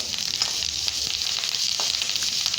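Curry leaves and garlic frying in a pan, a steady close hiss and sizzle with faint stirring crackles throughout.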